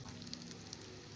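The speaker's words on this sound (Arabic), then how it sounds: "بعد ما تسيح الزبدة هننزل عليها بالعيش." Butter sizzles and crackles steadily in a pan, a soft, continuous frying hiss heard up close and fairly quietly, with no voices.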